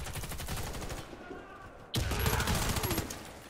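Rapid automatic gunfire in the online shooter Warface rattles on steadily and is loud and close, with a sharp jump in intensity halfway through.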